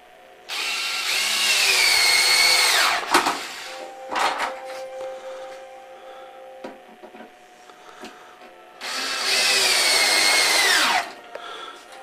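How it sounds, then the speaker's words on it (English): A power drill drives screws into the window framework of a homemade wind tunnel, with two loud, close whirring bursts of about two seconds each and quieter handling knocks between them. "I am now installing the framework for the windows so you can see the wind tunnel, and I'm just putting the screws in now"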